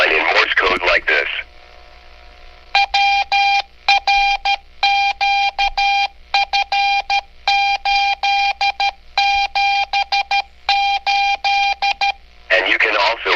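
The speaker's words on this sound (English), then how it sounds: "also do your call sign in Morse code like this." Call sign keyed in Morse code as sharp, clean tone bursts from a two-way radio weather alert interface board, dots and dashes in rapid rhythmic groups, bracketed by brief talk at the start and end.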